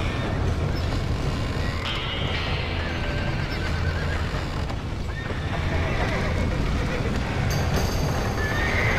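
Horses whinny and neigh amid clip-clopping hooves in the Western video game Red Dead Redemption, loud and continuous, with a dense, rumbling mix of action around them.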